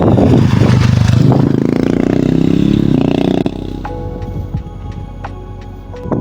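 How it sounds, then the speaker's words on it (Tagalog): Motorcycles descend a long steep mountain road in Bokod, Benguet, engines loud and close with clattering and scraping at first, then easing to a quieter rumble as they move off. "Ang astig nila magpababa ng motor, parang wala lang."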